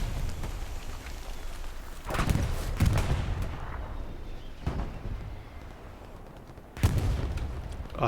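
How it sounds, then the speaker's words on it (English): Bombing-run explosions in a multiplayer shooter match land as several heavy booms with rumbling tails, spaced apart over steady background battle noise and rain-like crackle. "I hear a bombing run."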